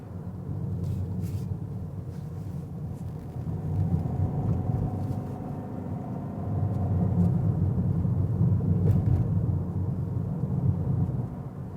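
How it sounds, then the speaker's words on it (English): Toyota Prius 1.8-litre four-cylinder engine droning steadily from inside the cabin while climbing a steep hill, a low continuous hum that swells slightly midway, with no talking. "Engine now here is a little bit more noisy because it goes steeply uphill."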